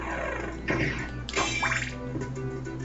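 Holy water sub-weapon from Castlevania: Symphony of the Night burning on the ground, a quiet splashy, bubbling hiss that swells in a couple of short surges over a low steady game hum.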